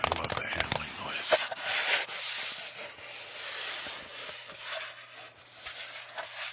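Camera gear is handled up close in an ASMR setting, giving soft rubbing, scraping and hissy friction sounds with small knocks that rise and fall unevenly, faint and intimate.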